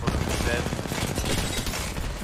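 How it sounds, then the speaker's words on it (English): Rampage light machine gun firing in an Apex Legends match: a steady rapid stream of gunfire shots running through the whole moment, mixed with other battle noise and lively voices. "that is indeed a rampage that you are hearing"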